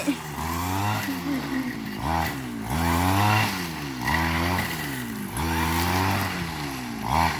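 A gasoline grass trimmer cuts grass on a plot of land being cleared before plowing, its engine close and loud, revving up and down in repeated surges throughout.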